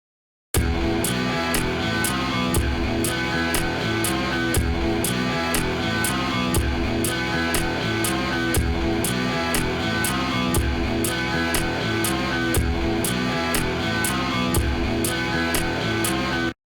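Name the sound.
hip hop style beat with clap snare on beats 3 and 7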